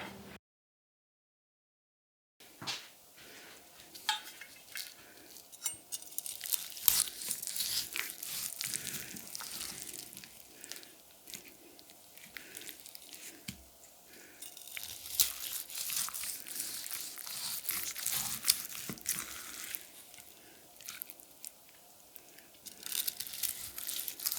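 A large 300mm slicer knife, the Nasus Diaboli Leviathan, cuts through a prime rib roast with close, steady crinkly tearing and crunching strokes that repeat continuously after a brief silence at the start.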